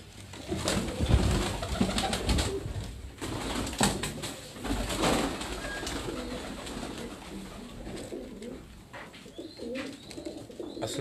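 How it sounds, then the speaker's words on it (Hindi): Pigeons coo on a rooftop in Larkana, Sindh, with repeated soft throaty coos and some wing flutters and chirps. The sound is close and alone against faint background noise. "ये कबूतर आप देखें"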